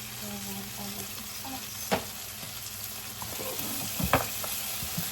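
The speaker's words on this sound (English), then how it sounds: "Now we're frying the tomato paste in oil." Tomato paste fries in oil while being made for a Kenyan chapati and coconut beans meal, a close, continuous sizzle with a few sharper pops and stirring scrapes.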